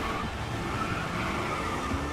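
Race car engine note from a racing video game played through a Logitech G923 Trueforce wheel: a steady, continuous mechanical drone that stays loud and even throughout, with faint tire-squeal texture.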